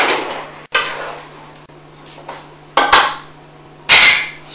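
Lamb shanks being mixed with salt and pepper in a metal pot, with a spoon scraping and several loud clanks and knocks against the pot, spaced irregularly and close by.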